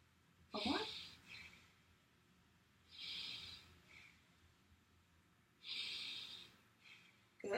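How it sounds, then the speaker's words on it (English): A patient takes deep, audible breaths in and out during a bedside head-to-toe lung assessment, three strong breathy rushes close by, spaced a few seconds apart with quiet between. "Take a breath and let it out."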